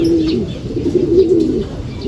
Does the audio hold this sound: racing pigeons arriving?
yes